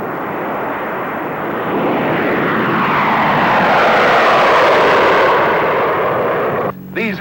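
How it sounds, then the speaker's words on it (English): A B-36 and a B-47 bomber in flight, a loud broad roar of aircraft engines that swells and sustains steadily, close and overwhelming, then briefly dips near the end. "a B-36 and a B-47 will be in the air to find out the effect of blast and heat on"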